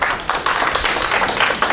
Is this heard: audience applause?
yes